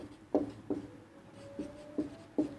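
A pen writes on paper during a Hindi math lesson, giving five soft, close scratchy strokes in quick succession against a quiet room.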